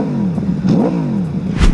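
An Aprilia V4 Factory sport motorcycle engine revs up and down in quick rising and falling sweeps, loud and close, with a sharp blip at the end.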